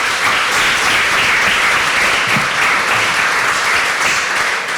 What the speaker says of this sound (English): give yourselves, once again, another a round of applause